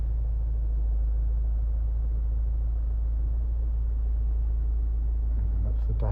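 A 2013 Honda CR-V 2.2 i-DTEC diesel idles steadily, a low, even rumble that holds constant throughout, with a brief faint knock or shuffle near the end.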